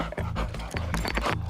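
A customs sniffer dog pants quickly in short, rhythmic breaths close to the listener, with faint scuffing in between and no clear speech.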